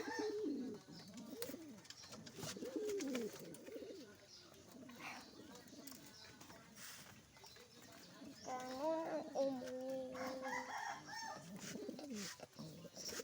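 A pigeon coos softly in a quiet setting, a few low rolling calls with brief pauses, close by but faint.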